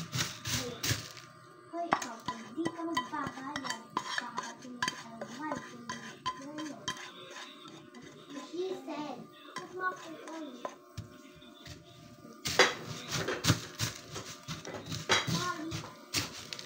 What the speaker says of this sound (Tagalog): Ngayon, dito na lang natin ihalo sa lalagyan